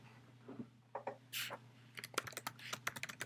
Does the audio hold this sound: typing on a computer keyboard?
yes